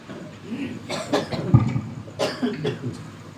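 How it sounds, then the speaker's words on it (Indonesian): Several harsh coughs come in irregular bursts, fairly close, during a monthly religious study gathering in East Jakarta, with faint background murmur between them. "Batuk."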